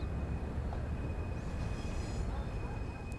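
Steam-era train in Train Sim World at Crewe in northwest England, heard as a steady low rumble and rolling noise with a faint high whine, continuous and moderately loud throughout.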